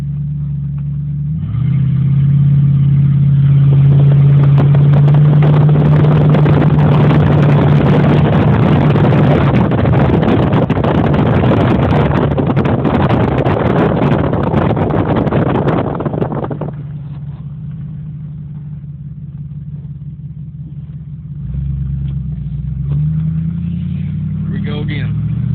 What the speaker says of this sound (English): This is a 2003 Jeep Grand Cherokee Limited with the muffler cut off of it inside the Jeep.